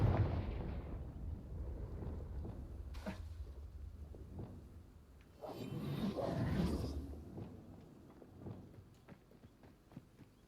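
A Confringo fire spell in Hogwarts Legacy lets out a sharp crack, then a rumbling burst swells and fades over a low, steady game ambience, fairly faint and without voices.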